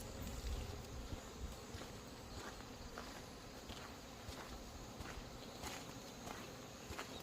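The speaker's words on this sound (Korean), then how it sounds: "말벌을 잡고 있는데" Asian black-backed hornets buzzing outdoors while being caught, a faint continuous insect drone with scattered soft taps and rustles underneath, no talk.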